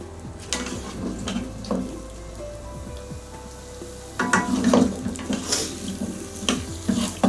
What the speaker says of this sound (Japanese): じゃがいも先ちょっと炒めます。